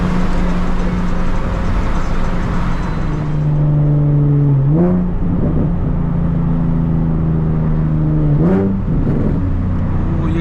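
A Nissan Z car's engine drones steadily up close, then revs up twice, each rise ending in brief pops from the exhaust.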